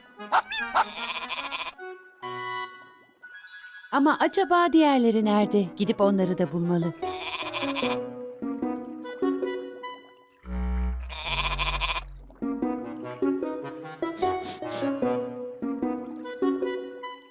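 A lamb bleats among other animal calls and a dog's bark, mixed with a voice speaking throughout, all close and moderately loud.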